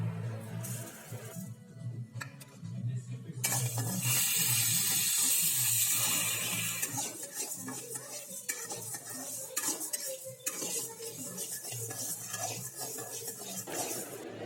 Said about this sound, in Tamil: இது கூடவே கால் கப்பு பச்சரிசி அதையும் நல்லா செவக்க வறுத்துக்கலாம்